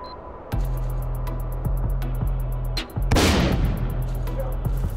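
Repeated shots from a heavily modified gun in the video game S.T.A.L.K.E.R., cracking out at a steady rhythm over a low droning backdrop, with one heavier, louder blast near the end.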